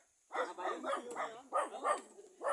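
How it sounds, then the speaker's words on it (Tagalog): Several dogs bark and yip in quick overlapping bursts outdoors near a cabana, sharp and fairly close after a moment of silence. "Ayan ang aming mga dogs."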